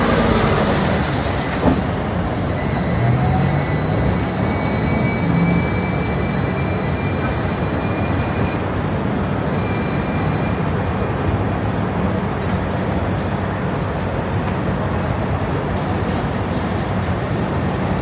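Loud, constant rumble and rattle of riding aboard a Hong Kong tram, with thin metallic wheel squeals drawn out along the rails, steady throughout.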